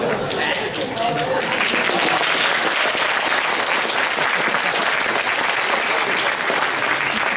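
An audience at a Czech talk about Metal Gear breaks into loud, sustained applause, dense clapping running unbroken from start to finish.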